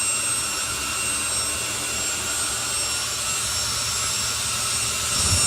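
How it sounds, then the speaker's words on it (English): Jet-powered drag racer with a Pratt & Whitney J60 jet engine at a drag racing event, giving off a loud, continuous roaring hiss with a high whine on top that stays steady and swells slightly at the end. "It's got a Pratt & Whitney J60 jet engine in there"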